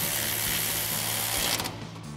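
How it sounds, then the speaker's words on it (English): A ratchet with a 15mm socket tightens a bolt on a vehicle exhaust isolator, a rapid run of close, dense mechanical clicks that stops abruptly near the end. "we'll tighten that back down with our 15mm socket on our ratchet"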